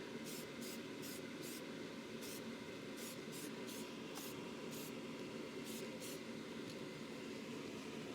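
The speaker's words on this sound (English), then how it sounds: "This is a high pressure paint, so you want to make sure that you have short sprays." Short hissing bursts of high-pressure spray paint, roughly a dozen brief puffs in an irregular rhythm, are applied to stone being prepared for sandcarving inside a paint booth, over a steady low hum.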